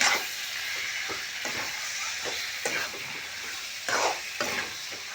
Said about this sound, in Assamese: মাংসটো দি দিলোঁ। দি পেলাই ভালকৈ লাৰা চাৰা কৰিব লাগিব ইয়াত ধুনীয়াকৈ।